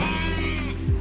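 A sheep bleats close by in one short, steady wavering call with a low grunt near the end.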